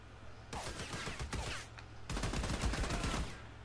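Bursts of automatic gunfire in the co-op shooter Army of Two: one rattling volley, a short pause, then a longer and louder burst of fire, close with no voices.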